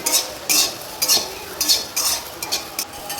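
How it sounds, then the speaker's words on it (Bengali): Corn kernels lightly frying in butter, stirred briskly with a utensil that scrapes and clinks against the pan in quick repeated strokes over a soft sizzle, close and fairly loud, with no talking. "কর্নগুলো ভেজে নেব।"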